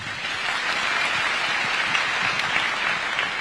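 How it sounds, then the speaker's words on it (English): An audience at an event with the Kenyan president gives loud, dense, sustained applause after a speech, a steady wash of clapping from the whole room. "Another round of applause for His Excellency."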